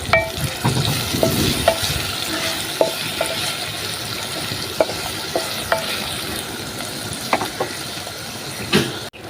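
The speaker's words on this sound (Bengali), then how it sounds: "আমি এখন পেঁয়াজের সাথে আমি শুটকিটা দিয়ে দিব তেলে ভেজে" Dried fish fries with sliced onions in oil, a continuous sizzling hiss broken by frequent clicks and scrapes of stirring, close up with no talking.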